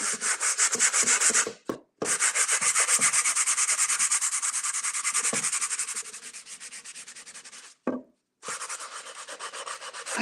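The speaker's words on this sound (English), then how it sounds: "like nails on a chalkboard, the sandpaper sound" Steady, raspy sandpaper strokes rub across a wooden sign up close, with two brief pauses between long stretches of scratching.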